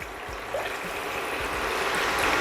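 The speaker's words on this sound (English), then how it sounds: "We're gonna now add about 3 cups of water to that," About three cups of water pour into a pot of chicken feet for Jamaican curry chicken foot, a steady close stream that builds slightly louder over a couple of seconds.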